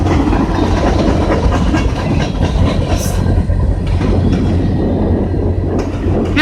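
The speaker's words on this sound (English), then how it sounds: "Oh, he must be waiting for the CN train to leave." A CN freight train rolls steadily through Kingston station, its loud continuous rumble and wheel clatter filling the whole stretch without pause.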